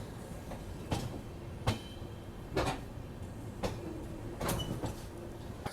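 A Patna-Howrah Express passenger train running at night, a steady rumble inside the carriage broken by regular sharp clacks of wheels over rail joints, with no voices.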